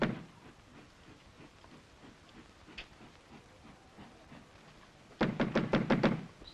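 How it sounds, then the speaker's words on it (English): A rapid run of about five knocks on a door in a 1940s British home, sounding close and fairly loud after a stretch of quiet room noise. "It's no use knocking."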